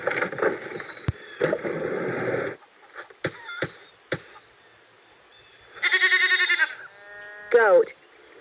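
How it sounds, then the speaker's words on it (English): A goat bleats in a couple of wavering, nasal bursts near the end, preceded by louder noisy animal sounds and scattered clicks, close and clear. "Goat."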